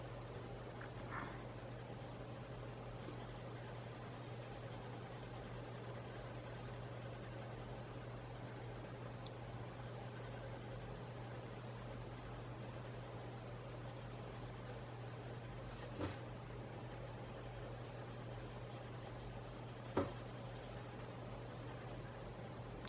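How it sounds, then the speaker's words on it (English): A Prismacolor Premier coloured pencil scratches steadily across paper in a continuous soft, dry rasp, heard alone against a low constant hum. "Color I'm using right now is a Prismacolor Premier pencil."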